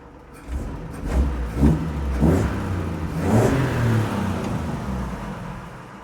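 Engine of a manual transmission truck blipped with the throttle, several rising revs from near idle that swell and fade back, moderately close with a low rumble underneath.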